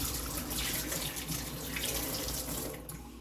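Steady rush of tap water running into a kitchen sink, close and continuous from start to finish, easing slightly at the end, with no talking.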